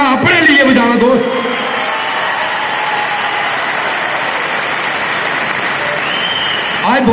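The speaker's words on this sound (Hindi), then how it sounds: "आज आपको भी बहुत मौका है जोर से ताली बजाना, अपने लिए बजाना।" A crowd at a motivational speech event applauds loudly and continuously, a dense, steady roar of clapping, with a voice heard at the start.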